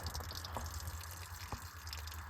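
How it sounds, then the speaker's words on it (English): Water dripping from the motor of an old mud truck as it is pumped out, a few faint separate drips over a steady low background hum. "And now I'm pumping water out of this side."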